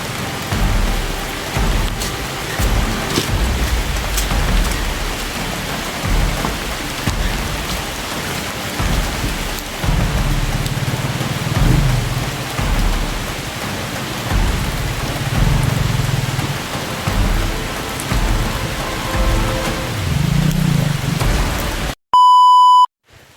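Heavy rain pours steadily at night, a dense, continuous hiss with low rumbles underneath, broken at the very end by a sharp electronic beep.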